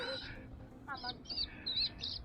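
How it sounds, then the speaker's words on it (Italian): A small bird by Lake Lugano gives a run of bright, high chirps, several quick calls in a row after a faint earlier note, close and clear over low background noise. "Sei lì, un uccellino"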